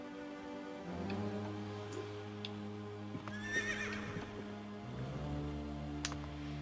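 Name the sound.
winged horse neighing in Castlevania video game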